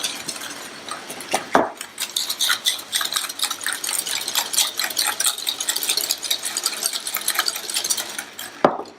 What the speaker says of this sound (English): full cup of sugar. And we'll whisk that together.